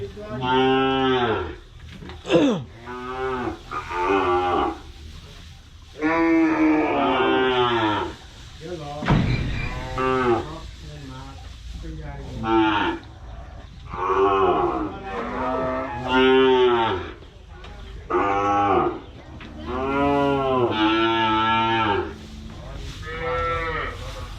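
Cattle, bulls and cows, are loaded for transport by truck in Thailand, giving loud, repeated deep moos, some long and overlapping, with short pauses between calls.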